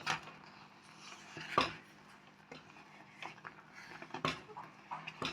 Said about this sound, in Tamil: கட்டி தட்டாமல் கிளறிக்கொண்டு ஸ்லிம்மில் வைத்து கிளற வேண்டும்.